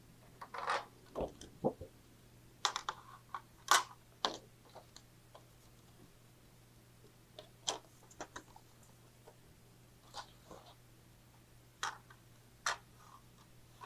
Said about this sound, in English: So now we're going to take out our trimmer and do a little trimming.